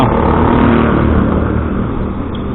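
A vehicle drives through busy street traffic, a loud continuous engine rumble and road noise close by with no pause throughout.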